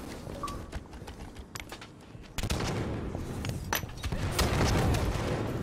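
Gunfire from a Halo 5 arena multiplayer match, a busy string of shots and bursts that grows louder and denser halfway through, continuing without a break near the listener.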